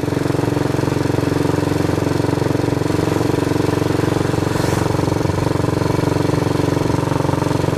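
A Royal Enfield motorcycle engine runs steadily and close by, producing a loud, even, rapid thumping that holds unchanged from start to finish.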